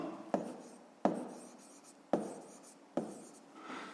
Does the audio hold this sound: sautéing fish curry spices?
no